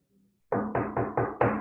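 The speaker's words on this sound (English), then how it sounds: "I would knock on the wall" Knuckles knock on a wall five times in a quick, even rhythm, each rap close and solid, alone in quiet.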